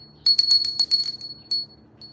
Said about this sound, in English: I'm feeling like I want to ring the bell.